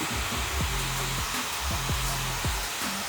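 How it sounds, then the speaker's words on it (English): A hair dryer fitted with a diffuser blows steadily with a loud, airy rush and a low motor hum, its tone wavering slightly as it moves through the hair. "I'm gonna hit it with my diffuser"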